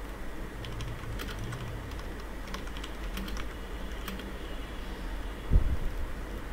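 Someone types on a computer keyboard, producing soft, irregular clicks in short bursts over a low, steady room hum, with no one talking.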